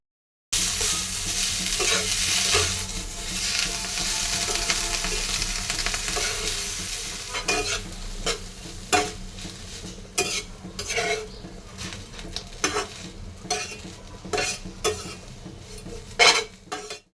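Prawn heads and bottle gourd peel stir-frying in a pan, a steady sizzle with repeated scraping and clinking of a utensil against the pan, the stirring strokes growing sharper and more spaced toward the end.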